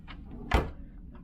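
A refrigerator door in a Carnival Vista ocean-view cruise cabin opens with a single soft thud midway through, set against a faint room hum.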